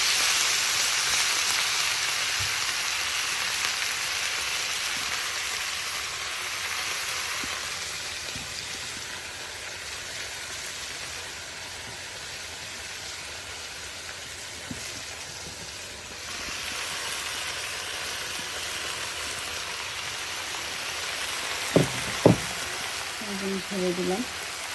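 Red spinach fries with garlic in hot oil, giving a continuous broadband sizzle that softens slightly mid-way, with a couple of sharp utensil clinks near the end.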